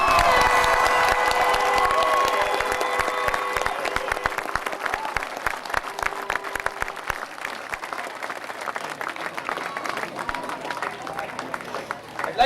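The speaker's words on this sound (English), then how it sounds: "And he deserves serious applause for that." Audience applause mixed with cheering and shouts at a county final celebration, loud and dense at first, then thinning into scattered claps that trail off over about twelve seconds.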